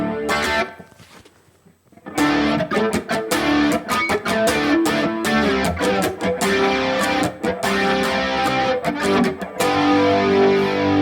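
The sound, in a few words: distorted electric guitar with chorus effect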